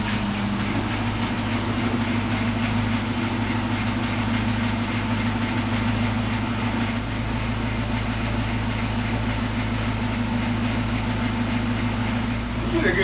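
A Suzuki Samurai engine, started for the first time after sitting two years, idles steadily with an even low rumble that runs continuously and close by, with voices talking faintly over it.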